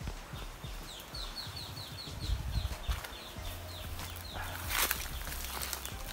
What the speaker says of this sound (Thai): พามาดูนกฟังเสียงนกเนาะ